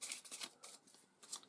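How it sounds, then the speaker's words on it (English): Game cards being shuffled in a deck, a quick, soft riffling in several short bursts, close and quiet, with no talking. "And we give this a shuffle."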